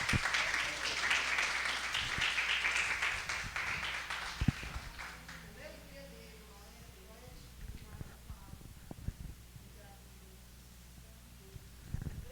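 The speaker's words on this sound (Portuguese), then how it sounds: "que as palmas louvem ao Senhor" Church congregation clapping in praise, a broad wash of applause strongest at the start that gradually thins and fades, with scattered louder claps and some voices underneath.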